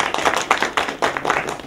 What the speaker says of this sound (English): give Cheryl another round of applause